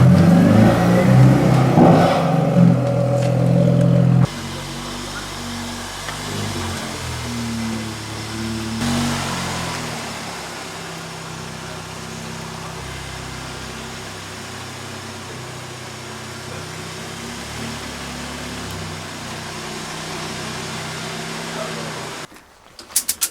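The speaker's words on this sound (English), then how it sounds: "So this will be the first dyno run we do" A standard VW Golf R MK7 engine on a dyno run, a loud rising rev at the start that drops to a steady droning hum, then cuts off near the end; faint talk may be present.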